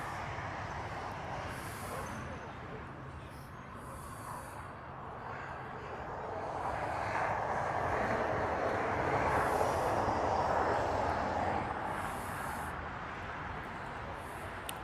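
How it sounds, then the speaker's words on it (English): A Turkish Airlines airliner from Istanbul rolls out at LAX after landing, a broad, distant engine rumble and whoosh that swells in the middle and then eases, with no talk. "This is Turkish Airways. It just landed, coming in from Istanbul"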